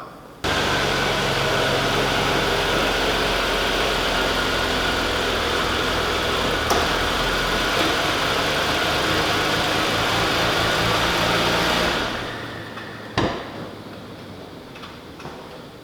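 A car engine idles steadily after an oil leak repair with AT-205 Re-Seal, a constant close hum for about twelve seconds before cutting off, followed by a sharp click and quiet.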